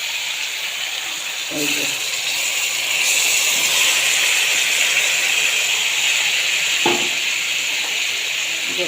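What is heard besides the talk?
chicken sizzling as it is put in the pan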